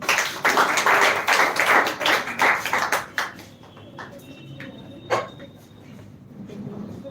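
An audience at a speech competition applauding a speaker, with a burst of loud, dense clapping for about three seconds that fades into scattered claps and quieter room noise.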